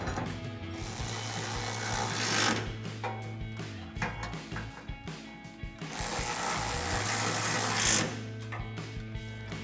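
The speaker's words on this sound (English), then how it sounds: "And then we'll grab our 13 millimeter socket to tighten those down." A ratchet with a 13 millimeter socket tightens the bolts on a running board bracket of a 2019-2023 RAM 1500 pickup, giving rapid, close, steady clicking in two long runs with short pauses between them.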